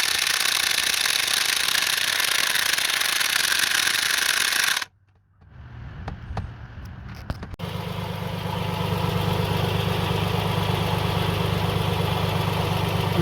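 A Toyota Sienna engine runs with a harsh, rapid rattling clatter, loud and close, then cuts out briefly before a steadier idle with a lower hum resumes.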